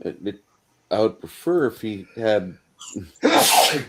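A single loud, close sneeze bursts out right after a person finishes speaking, with a sharp noisy explosion at the end of the clip.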